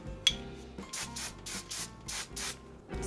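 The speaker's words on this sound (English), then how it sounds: "spritz it with your spray" Several short bursts of aerosol hairspray hissing in an irregular rhythm, close by, over faint background music.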